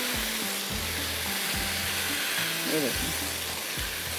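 Vegetables and freshly made paste fry in a little oil, giving a steady broad sizzle with occasional stirring scrapes while a person talks over it.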